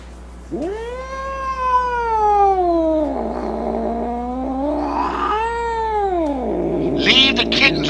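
A kitten meows in long, drawn-out, wavering cries, two extended yowls close to the microphone followed by a brief scuffle of noise.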